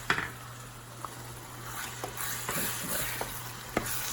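Tomatoes sizzle steadily in a hot frying pan while a utensil stirs them, giving soft scraping and a few light clicks over the constant frying hiss, close and fairly quiet.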